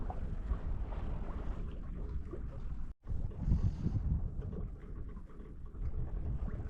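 Sailboat under way on the North Sea at about 4.5 knots, with wind buffeting the microphone and water rushing along the hull, moderate and continuous, with a brief dropout midway.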